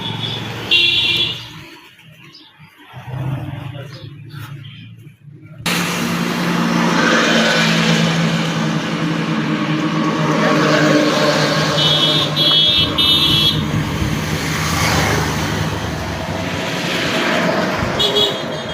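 Traffic runs on the Khulna to Botiaghata main road: after a few quieter seconds, a steady, loud roar of passing vehicles builds, with repeated horn beeps and engine revving nearby.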